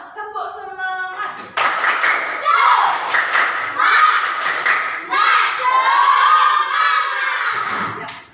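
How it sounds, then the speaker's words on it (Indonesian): Schoolchildren in a science class perform a rhythmic spirit clap, patterned claps and thumps mixed with group chanting and shouted voices, loud and close, running in quick bursts for several seconds. "Coba tepuk semangat."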